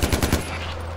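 Automatic gunfire in the video game Far Cry 4: a rapid burst of four or five close, loud shots in the first third of the second, then a steady low hum and one more shot at the end.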